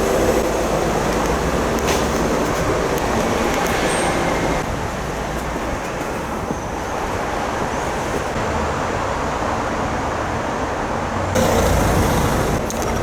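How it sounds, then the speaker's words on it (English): Cars move through an outdoor car park, heard as a steady broadband traffic wash that swells slightly near the end, with no talk. "I have to wait for other people trying to get past in their cars."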